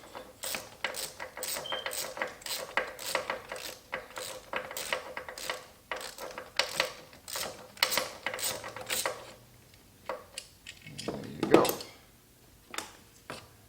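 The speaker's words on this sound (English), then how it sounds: "Then we remove the other 10mm bolt." A hand ratchet backs out a 10mm bolt while the diverter valve is removed from a Nissan Juke. Quick, close clicking comes in uneven bursts for most of the stretch, then a few scattered clicks and a scrape follow.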